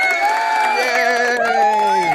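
A crowd-cheering sound effect fires from a sound pad during a comedy podcast, giving a steady wash of cheering, whooping and shouting that holds loud and even throughout without a break.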